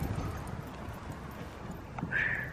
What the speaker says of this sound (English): That's a nicer trot for his legs. He's not stabbing his feet into the ground.